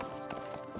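Horse hooves clip-clop in a quick, regular rhythm in the Wishblossom Ranch video game, faint and brief against a soft musical background.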